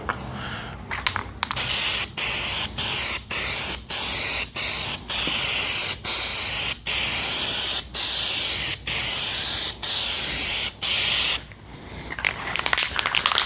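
Steady hissing spray from a paint gun applying a third coat in a series of short bursts separated by brief gaps, close and loud, with no voices.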